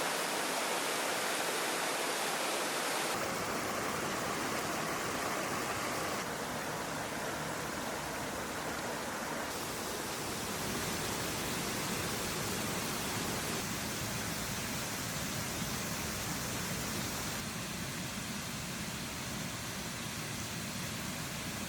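Jantur Emporok, a tiered waterfall with a river below, gives a steady, dense roar of rushing water that fills the whole stretch with no pauses and no voices.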